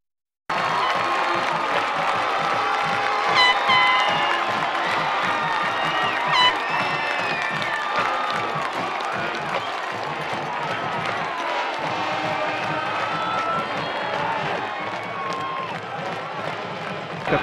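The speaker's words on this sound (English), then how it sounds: "Capacity crowd here. Boy, John, I just can't get over this crowd." A capacity crowd cheers and roars continuously at a high school football game, a dense, loud wash of voices and shouts that holds steady throughout.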